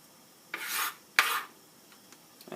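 Peppers being trimmed with a knife: two broad rasping scrapes close by, followed by a few lighter taps and clicks, with no voices.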